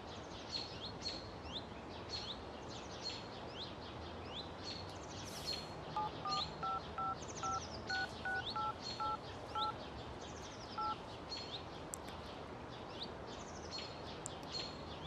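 Phone keypad tones beep as a number is dialed, a quick run of about a dozen short, evenly spaced DTMF beeps in the middle, faint against background birdsong chirping throughout.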